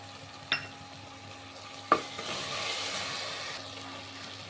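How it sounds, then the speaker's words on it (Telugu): Tomato and onion stirred and frying in a pan for veg biryani: a steady soft sizzle with two sharp utensil clinks early on, close and moderately quiet, no talking. "ఇప్పుడైతే టమోటో వేసుకుంటున్నాను. ఇదంతా ఒకసారి కలుపుకోవాలి."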